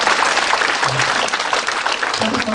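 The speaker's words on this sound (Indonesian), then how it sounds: "Tepuk tangan buat Anda." An audience bursts into loud, dense applause at a motivational talk, a steady wash of many hands clapping close by for the whole stretch.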